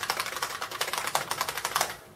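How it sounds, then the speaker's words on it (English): Quick, rhythmic typing on an IBM 5155 Portable Personal Computer's buckling spring keyboard, with a lighter, metallic tone; crisp, close keystrokes clatter steadily throughout. "But it is indeed a buckling spring keyboard."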